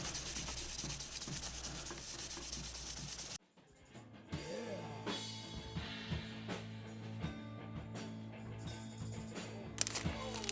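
Wax is rubbed off a guitar fretboard with repeated close, soft rubbing strokes, a steady scrubbing at first, then quieter intermittent rubs and small handling noises.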